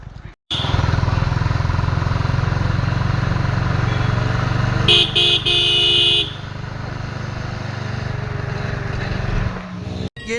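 A TVS 50 moped ridden on a road on a trip, its small engine droning steadily and close while a horn toots briefly midway, with voices faintly in the background.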